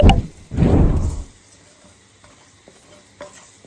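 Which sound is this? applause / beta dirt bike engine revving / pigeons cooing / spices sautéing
spices sautéing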